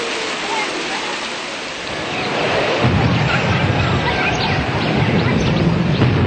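A heavy downpour during Ethiopia's rainy season roars as a dense, steady wash of rain that thickens and grows louder partway through, with no distinct thunderclap standing out.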